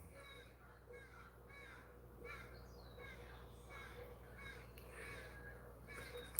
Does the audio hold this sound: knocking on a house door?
no